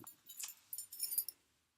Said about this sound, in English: And I have my own house keys,